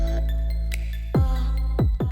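A 2023 BMW M240i engine idling while warming up, heard up close with a steady low hum and a light ticking, broken by several sharp downward-sweeping knocks or clunks near the end.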